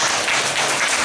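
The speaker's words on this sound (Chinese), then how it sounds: "那请大家先掌声鼓励" An audience at a lecture on equality and collective memory claps in a dense, steady burst of applause, loud and continuous for a moment.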